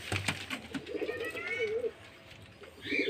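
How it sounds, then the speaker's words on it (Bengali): Pigeons coo softly in low, rolling calls, fairly quiet and close, with a few faint knocks and rustles around them. "এই যে পায়রাগুলো আছে এই পায়রাগুলোকে আজকে চান দেবো"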